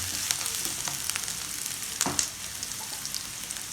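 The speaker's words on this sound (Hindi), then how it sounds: "ये हाई फ्लेम में हम अनियन सेक लेंगे और इसमें मैं डाल देती हूँ" Onions and dried red chillies fry on a high flame, giving a steady close crackling sizzle with scattered sharp pops and a brief stir, and no voices over it.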